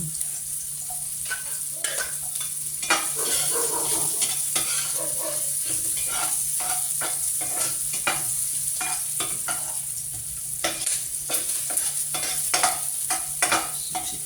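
Garlic and onion sautéing in a pan for Filipino tomato-stewed pork, a constant bright sizzle with repeated scraping and stirring knocks of a utensil against the pan, close and loud throughout with no talking.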